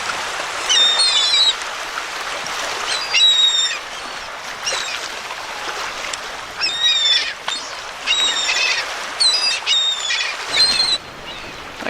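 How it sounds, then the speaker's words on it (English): Seagulls call beside a canal, repeated squawking cries in irregular bursts, some near and loud, over a low flowing-water background. "Kind of cool to see all the seagulls."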